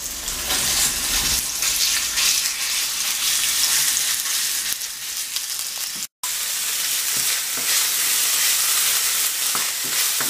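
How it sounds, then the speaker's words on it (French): Minced meat sizzles steadily in a pan with a generous drizzle of olive oil for Sicilian arancini, a loud, close, continuous frying hiss broken only by a brief silent gap midway. "Un bon filet d'huile d'olive, voilà, et j'y ajoute la viande."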